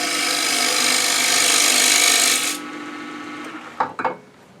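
A scraper rasps steadily against wood spinning on a lathe for over two seconds, then cuts off abruptly, leaving a quieter hum and a couple of brief knocks.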